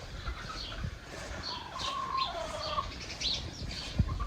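Backyard chickens heard close by, with soft clucks, chirps and a few rustling movements and wing flaps in a quiet coop after rain.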